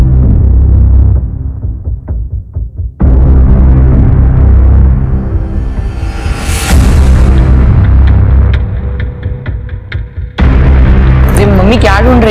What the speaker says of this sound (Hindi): ब्रो, मैंने एक ही ग्रेनेड से 20 लोगों का सफाया कर दिया।